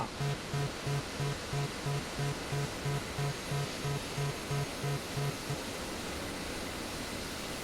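Aircraft engines in the DCS World flight simulator winding down, a broad steady roar with a regular low pulsing beat that stops after about five seconds while the hiss continues.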